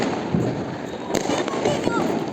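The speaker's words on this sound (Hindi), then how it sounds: "ये ले आए स्काई शॉट" Sky shot fireworks go off during Diwali celebrations, with sharp cracks and pops amid a dense, noisy outdoor background while people talk nearby.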